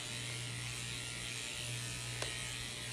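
Electric clippers trimming a Goldendoodle's face, a steady close-up buzz that runs unbroken and fairly loud with no talking.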